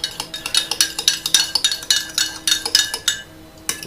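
Four eggs with salt and pepper are beaten in a glass, a quick run of sharp clinking taps as the utensil strikes the glass sides in a steady stirring rhythm, close and clear, then stopping abruptly near the end.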